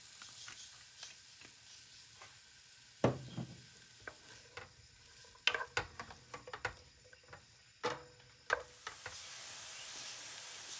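Dried green beans sautéed in sunflower oil, with faint frying hiss under repeated spoon scrapes and knocks against the pan, irregular and close, then a steadier sizzle building at the end.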